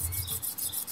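A blade being sharpened on a sharpener, a few quick rhythmic rasping strokes back and forth, close and alone without talk.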